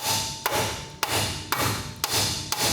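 Sledgehammer blows on a RAM truck's steering knuckle to break loose the upper control arm ball joint: five loud, sharp metallic strikes at roughly half-second intervals, close by, with a faint steady hum underneath.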